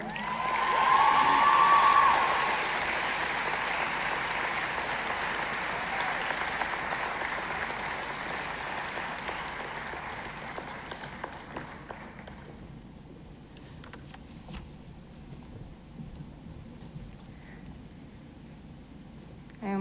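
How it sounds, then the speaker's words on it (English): Audience applause at a high school graduation ceremony greets an award winner, a steady wash of clapping that swells early and then gradually thins and fades over about twenty seconds. "Please give it your round of applause for the winner of the CIS Award"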